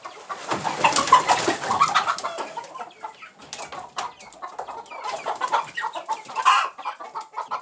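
Chickens clucking and calling near a backyard coop on a kimchi-making day, several birds chattering in irregular bursts close by, with quieter pauses between, no talk.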